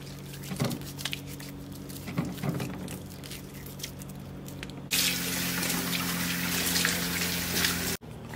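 Hands being washed under running tap water at a home kitchen sink, a faint steady flow with small splashes that grows louder and fuller partway through before cutting off abruptly.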